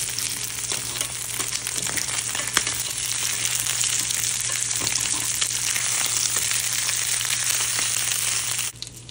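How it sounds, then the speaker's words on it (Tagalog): Fish sizzles in a hot frying pan, a dense continuous crackle and hiss of oil with a few sharp pops, close and steady, with no talking. "Ilang minuto lang nilagay ko ng iyong isda para maprito."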